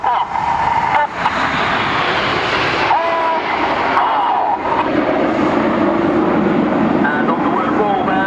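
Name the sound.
Red Arrows RAF jets flying a chevron roll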